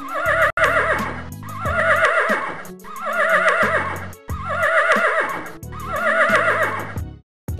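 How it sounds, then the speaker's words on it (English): A horse neighs in several loud, close whinnies, each a wavering harmonic cry, with brief gaps between calls and no talking. "Horse."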